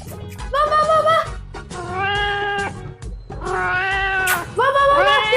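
A kitten meows repeatedly in long, drawn-out, whiny cries, four clear calls close and loud, each rising then falling, with short gaps between and faint background noise.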